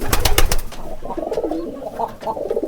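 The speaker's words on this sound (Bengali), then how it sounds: "দেখেন এই কবুতরটা কীরকম ডাক দেয় দেখেন ভালো করে" A domestic pigeon paired with a female coos in a low, throaty, rolling series close by, following a brief burst of rustling or wing noise at the start.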